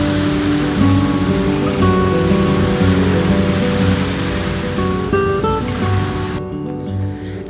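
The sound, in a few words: ocean waves at the beach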